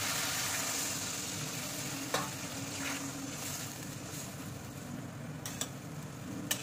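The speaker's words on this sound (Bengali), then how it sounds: "এবার জল দিয়ে দেবো।" Water poured into curry frying in a pan brings a steady, soft sizzle with bubbling hiss, broken by a few faint clicks of a utensil against the pan, with no voices present.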